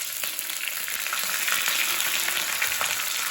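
Dried red chilies and curry leaves sizzling in hot oil, a bright, steady crackle and spatter heard up close with light stirring and no voices.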